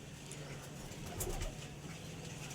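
Pigeons kept for sale, including a kapa gardan bird, coo softly from nearby, with a low murmuring call swelling in the middle against faint background noise and no talking.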